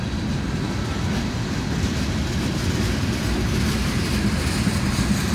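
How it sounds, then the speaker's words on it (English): Freight train locomotives labor up a grade with sand on the rails, a loud, steady low roar and rumble that holds throughout with no voices. "Those locomotives sounded really good. They were working hard"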